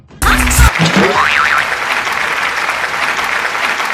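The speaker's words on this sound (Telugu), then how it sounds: "క్లాప్స్ కొట్టాలి" A crowd claps loudly at a birthday party stage, the applause bursting in at once and holding steady and dense throughout, with a brief springy boing effect near the start.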